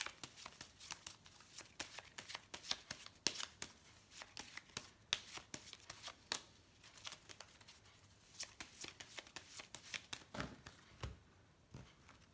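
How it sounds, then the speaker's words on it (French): Oracle cards shuffled and drawn by hand: a steady run of crisp, close riffling flicks and soft slaps, quiet and rhythmic, with brief pauses between bursts. "Allez, on va tirer quelques cartes de l'oracle G."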